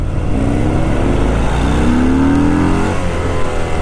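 Harley-Davidson Fat Bob 114 motorcycle ridden on the road, its V-twin engine droning steadily and loud throughout with a rising pitch as it pulls, plus constant wind rush.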